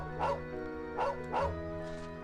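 A dog in the video game Trails of Cold Steel 2 gives three short yipping barks over steady game background music.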